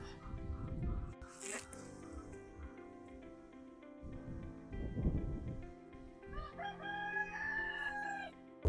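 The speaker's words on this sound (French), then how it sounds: "Oh ouais, ils sont tous là les poulets." Roosters crowing and chickens clucking on a farm growing African vegetables in Canada, a few distinct crows and scattered clucks at moderate distance, with quiet people talking at times.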